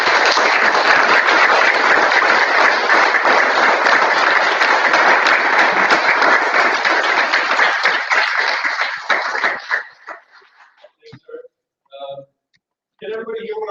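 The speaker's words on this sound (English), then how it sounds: "Everybody give Art another round of applause." A room full of people at an Ottawa livestreamed gathering on Indigenous land defenders gives a long, dense round of applause. The clapping fills about ten seconds before fading into scattered claps and a voice speaking.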